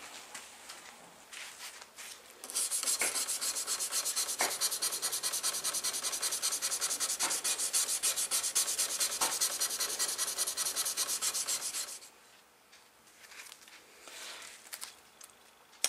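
A knife blade is hand sanded with 400 grit sandpaper, a steady, close, continuous rasping scrape of even strokes that holds for about nine seconds before it softens into lighter, sparser rubbing.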